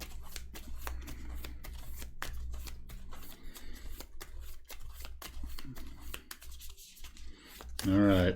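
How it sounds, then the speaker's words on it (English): A deck of Marvel Champions cards being shuffled on a tabletop, a run of quick crisp riffles and snaps close to the microphone, ending in a louder burst. "then I need to shuffle my deck up."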